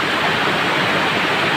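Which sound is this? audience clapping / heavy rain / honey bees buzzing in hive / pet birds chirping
heavy rain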